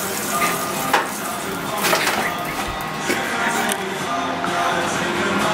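Food flipped and sizzling in a frying pan on a stove, with a steady frying hiss, scraping utensil clinks and scattered knocks against the pan, close and fairly loud.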